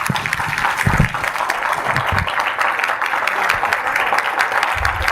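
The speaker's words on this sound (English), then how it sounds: "can I get a proper applause for the one and only Mr." A crowd at a company event claps steadily for a CEO introduction, dense and continuous throughout, with a few low thumps or voices faintly underneath.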